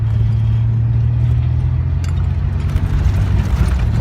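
A manual transmission car engine hums low and steady from inside the cabin while shifting up toward third gear, a constant mid-pitched drone with slight rises near the end, no talk.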